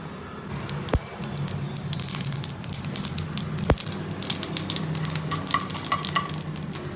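Mustard seeds crackle and spit in hot oil with dense popping that grows busier toward the end, with a couple of sharp knocks against the pan.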